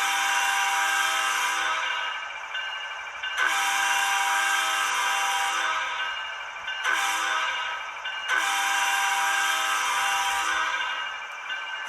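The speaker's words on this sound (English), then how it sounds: "2 is the air horn" Air horn on a ScaleTrains Rivet Counter ET44 model locomotive in BNSF H1 scheme, played through DCC sound: four long, loud, steady multi-tone chime blasts, each cut off abruptly with short gaps between.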